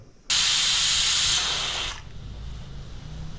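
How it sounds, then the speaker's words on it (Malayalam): A pressure cooker cooking raw squid lets off steam in a loud, close, sustained hiss that cuts in suddenly, holds for under two seconds, then drops to a softer background rush. "നല്ല കിടിലായിട്ട് ആവി വരുന്നുണ്ട്"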